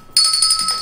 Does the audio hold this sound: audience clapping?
no